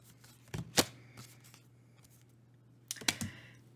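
Tarot cards being shuffled by hand, with a few short bursts of riffling and slapping separated by quiet pauses, close and fairly soft.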